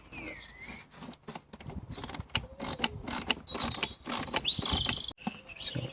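Ratchet wrench clicking as T15 Torx bolts are backed out around the blower motor of an Audi A6 (C6 4F), a run of quick mechanical ratcheting bursts and metallic clicks, close and fairly loud, with no talk.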